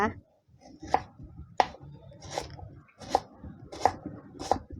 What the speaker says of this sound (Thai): เรามาเริ่มซอย ตะไคร้เพื่อที่จะเอาไปตำพริกแกงกันเลยค่ะ